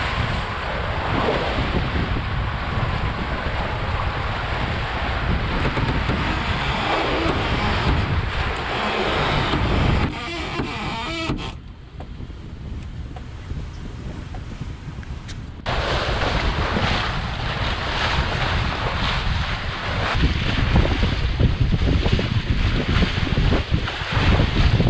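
A sailboat under sail in strong wind and open water produces constant rushing wind and splashing wave noise, loud and close, with microphone buffeting throughout and a brief quieter stretch in the middle.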